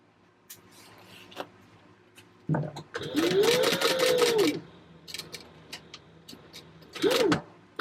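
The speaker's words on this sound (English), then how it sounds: "I'm just sewing them one right behind the other." Sewing machine topstitching fabric panels for a pumpkin bucket bag, a short close mechanical run of rapid stitching with a whirring motor, then a brief second burst after quiet handling sounds.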